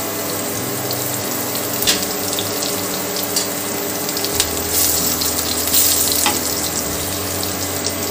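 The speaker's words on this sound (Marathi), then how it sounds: "फोडणीत मी आता मिक्स केलेले पाणी व पीठ टाकते आहे" A mix of water and gram flour, for a Maharashtrian mung dal pithla, is poured into hot tempering in a pan. It makes a steady, close rushing gush with a sizzling hiss that runs unbroken for the whole stretch.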